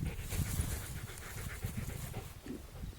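A dog panting rapidly and heavily up close during a rest break on a hiking trail, continuous breathy rhythm with no talking.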